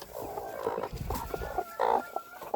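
Bantam hens cluck and murmur in a coop, brooding on eggs, with short throaty calls and a louder squawk near the end, close by over faint background rustling.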